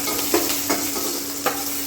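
Cumin seeds and green chili fry in a pan for a tomato and green pea chutney, giving a steady hiss with a few distinct scrapes of a stirring spoon, close and clear without talk.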